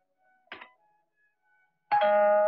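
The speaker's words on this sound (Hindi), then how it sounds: "मगर तुमने ये घंटी कैसे बजाई" A two-tone ding-dong doorbell chimes once in a Bollywood film scene, the second tone ringing loud and sustained after faint background sounds.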